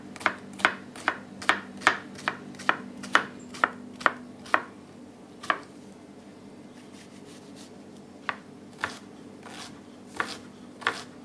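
A kitchen knife chops carrot and onion into fine brunoise on a board, a quick regular run of sharp taps, then a pause and a few slower scattered strokes; no talk.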